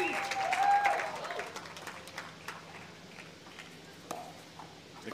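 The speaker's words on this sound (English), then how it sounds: "The crowd loves the Etta Wright defense performance there." A crowd at a professional pickleball doubles match applauds a defensive rally, a loud burst of clapping and cheering that fades over a few seconds into scattered claps and background murmur.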